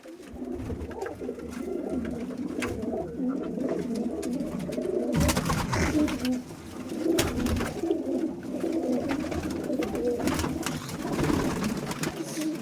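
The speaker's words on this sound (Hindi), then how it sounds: "फुलसरा कबूतर।" Several pigeons of a flying breed coo in a loft, soft overlapping murmurs running steadily throughout with some rustling and nearby activity, no talk.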